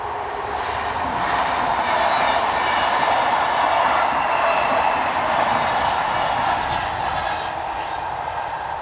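Two coupled City Rail electric multiple units on a peak-hour service from Brussels pass near Braine-le-Comte, a loud steady rumble and roar of wheels and motors that holds close throughout with faint rail clatter.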